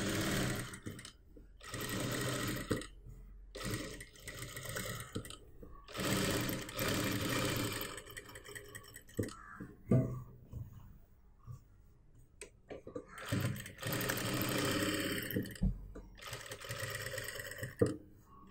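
A sewing machine stitches a neck design on a churidar or kurti top with rapid rhythmic clatter in several bursts, separated by quiet gaps, fairly faint and close.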